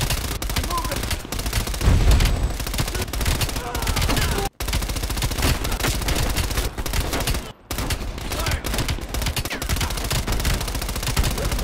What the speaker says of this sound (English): Shoot him, Adler.